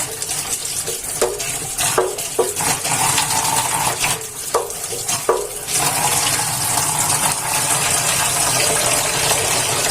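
Boal fish being rinsed under a running kitchen tap, a constant close splash of water broken by several sharp handling knocks and sloshes, with no talking.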